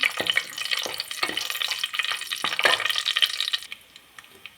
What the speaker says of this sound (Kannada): ಈರುಳ್ಳಿ ಸ್ವಲ್ಪ ಫ್ರೈ ಮಾಡ್ಕೊಳ್ಳೋಣ.